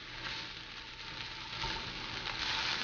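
Corn kernels roasting in a hot pan after being drained, making a steady, faint crackling sizzle with no voices.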